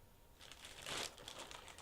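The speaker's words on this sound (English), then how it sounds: "there will be crinkling" Crinkling and rustling as a ball of Madeline Tosh knitting yarn in its packaging is moved aside, a short burst of crackly handling noise peaking midway, close and fairly quiet, with no talk.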